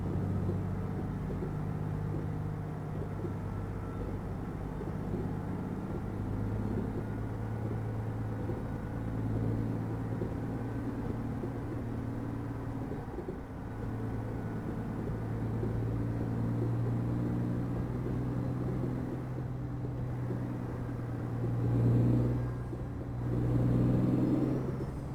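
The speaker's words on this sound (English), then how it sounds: "Love the sound of this truck. Just get a little bit of throttle. Engine's got a real nice sound to it." A heavy truck engine in American Truck Simulator rumbles low and steady over a rough road, a continuous close drone with slight swells as throttle is applied, no voices over it.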